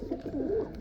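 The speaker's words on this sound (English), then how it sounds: "Good looking birds." Racing pigeons coo softly inside a loft fitted with simple wooden perches, a few low rolling calls overlapping in close succession, near and moderately quiet with no talk.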